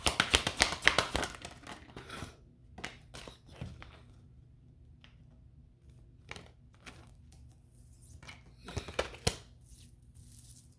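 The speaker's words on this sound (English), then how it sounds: "Shuffling for fire signs." Brisk riffling and snapping of tarot cards in quick bursts, with quieter pauses between shuffles, close by and fairly soft.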